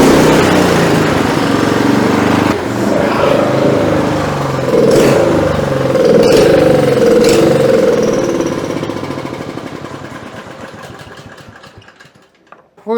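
A snow blower engine runs up close with a loud, steady rumbling chug, holding for several seconds before winding down and fading toward silence at the end.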